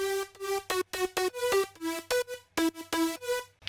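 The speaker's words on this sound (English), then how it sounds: "all together the leads sound like this, with no processing, keep in mind." Unprocessed synth leads layered from Nexus, Serum and Spire, including a Spire fusion preset, play a bright, choppy staccato melody of about a dozen short notes with brief gaps, loud and alone.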